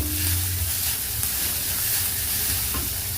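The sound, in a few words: garlic and onion sautéing in a pan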